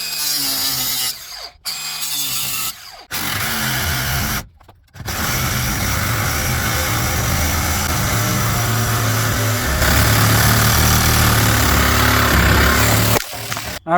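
A power drill grinds into metal in several loud bursts separated by short pauses, then a long continuous run near the end.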